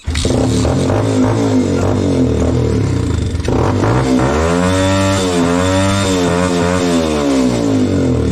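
An enduro motorcycle engine cranks and catches, then revs loudly up and down in sweeping pitch swells close by, with some clattery mechanical noise and no speech.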